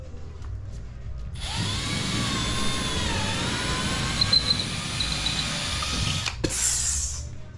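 A power drill bores a hole through a house wall for a ductless mini-split install, a loud steady whine running nearly six seconds near the mic, its pitch sagging and recovering under load before it cuts off abruptly.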